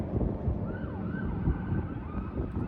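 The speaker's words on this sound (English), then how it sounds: "There's a cop somewhere trying to pull somebody over." A police siren wails faintly in the distance, rising and falling against a steady wind-like rush.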